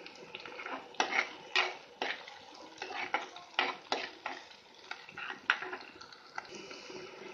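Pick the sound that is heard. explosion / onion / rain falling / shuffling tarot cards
onion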